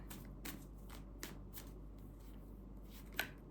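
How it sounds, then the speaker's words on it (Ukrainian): Quiet, close riffling of tarot cards shuffled in several short bursts, followed by a sharp light snap near the end. "З кожної колоди я витягую по три карти"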